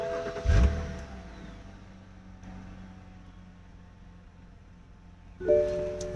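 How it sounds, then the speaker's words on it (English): A 2006 BMW E61 car engine cranks and catches with a brief rumble, settles into a low idle, then another surge of engine noise rises near the end. "Going to start the car."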